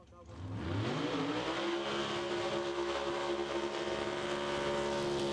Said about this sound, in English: Rick Garrett at the wheel of the family-run pro-modified Willys Coupe. Nice controlled burnout